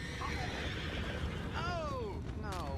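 A horse in the video game Red Dead Redemption 2 whinnies twice, its descending neighs rising over a steady background murmur with faint hoofbeats.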